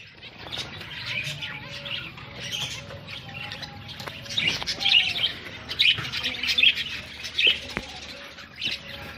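Zebra finches in a cage give small repeated chirps and tweets with occasional wing flutters, moderately close and lively, with no talk over them.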